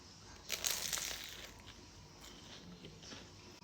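A short, crisp crunch of a bite into a homemade chicken and mushroom pie, one brief crackly burst, close and quiet, then soft chewing.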